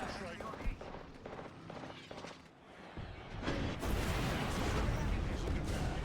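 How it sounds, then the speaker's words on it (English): Airstrike in the game Apex Legends: a loud, sustained barrage of booming blasts and crackling fire that swells and stays dense for several seconds, following a stretch of quieter gunfire and game voice talk. "Signaling an airstrike."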